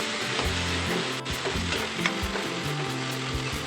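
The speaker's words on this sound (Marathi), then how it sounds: "त्याच्यामध्ये मी एक टोमॅटो टाकते बारीक चिरून। यालाही चांगला परतून घेऊया कांद्यासोबत।" Finely chopped tomato frying with browned onions in a pan for a cluster bean curry, a dense steady sizzle punctuated by regular spatula stirs and taps, close up with no speech.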